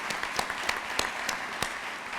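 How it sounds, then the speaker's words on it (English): Audience applause at a commencement ceremony: a steady, even wash of clapping from a large crowd, with a few louder individual claps standing out above it. "I would like to also give her a round of applause as well"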